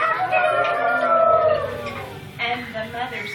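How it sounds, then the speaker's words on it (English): Roosters crowing at sunrise near a lake settlement, a long drawn-out crow sliding downward, then another crow starting after a short pause, fairly close and clear over a faint low background. "the roosters crowed,"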